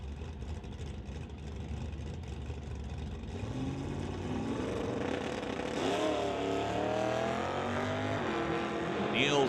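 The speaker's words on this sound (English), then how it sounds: "Neil Smith driving that 1970 GMC pickup on the Lordco side." A 1970 GMC pickup at a drag strip, its engine swelling from a low rumble into a loud rising roar as it revs and pulls away, heard from a distance amid a noisy outdoor racing crowd and announcer chatter.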